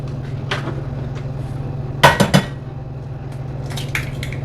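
Eggs going into a sticky pan in a home kitchen, a few sharp clattering knocks of shell and cookware at close range over a steady low hum, with lighter taps scattered around them.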